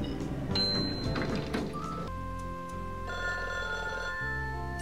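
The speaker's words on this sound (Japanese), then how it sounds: "電話鳴ってる" A telephone rings in a pachinko video game, a steady electronic tone with repeating pulses over background game music and machine jingles.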